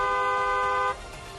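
A vehicle horn gives one loud, steady blast lasting about a second and then cuts off, leaving quieter street background.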